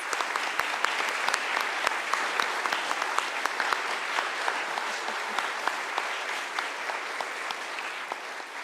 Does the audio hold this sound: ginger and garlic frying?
no